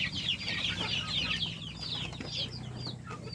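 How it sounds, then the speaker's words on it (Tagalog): Pet chicks peep and cluck continuously at feeding time in a poultry-raising setting, a dense overlapping chorus of high chirps close by over a steady low background hum, with no talking. "Pakain tayo sa ating mga sisiw. Kasi nagugutom na sila."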